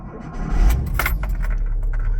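A 38-year-old VW T25 van being started with its keys, a brief jangle of the key ring followed by the engine catching and settling into a steady, loud close-up idle.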